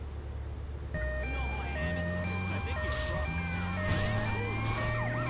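Police sirens wail in the PlayStation 2 game Grand Theft Auto: Vice City Stories, rising and falling tones layered over an engine drone and game music, with someone talking over them.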